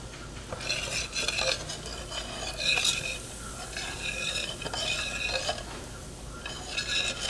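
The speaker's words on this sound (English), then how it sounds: "You want to hear a little bit of a sizzle when you do this." Sweet cornbread batter poured into a hot cast iron skillet gives a soft, hissing sizzle, broken by light scraping and clinking of a utensil against the pan in several short bursts.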